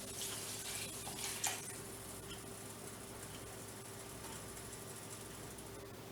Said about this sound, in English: I'm pouring in my chicken broth.